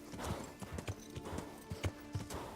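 Horse hooves clip-clop in the Kingdom Come Deliverance video game, an uneven run of close, sharp hoof strikes over a faint background bed.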